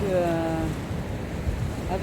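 Sea waves break on the Spanish coast in stormy weather, a rough surf roar blended with gusting wind buffeting the microphone, close and fairly loud over about two seconds.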